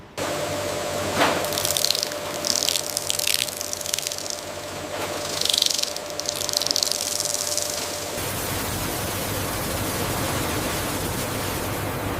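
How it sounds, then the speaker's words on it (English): Excess frying oil cascades off instant noodle blocks as a grate rises in a factory line, a steady hissing gush with louder splashing bursts, then the spray stops and a lower continuous machinery drone remains. "As the grate ascends, the excess oil cascades away, leaving behind the crisp, perfectly formed noodles"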